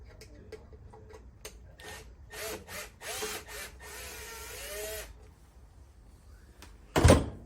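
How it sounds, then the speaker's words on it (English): Cover screws on a circulation pump's circuit board housing are worked loose with a screwdriver or drill: scraping and clicking bursts, then a longer whirring spin-out, with a sharp knock at the end. "Take the cover off up here to our circuit board. Use your screwdriver or drill,"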